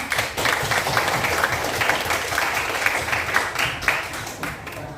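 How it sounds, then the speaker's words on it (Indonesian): Classroom applause for classmates during a lesson, a lively burst of many children clapping fairly close, sustained and uneven in loudness before trailing off. "tepuk tangan untuk teman-teman"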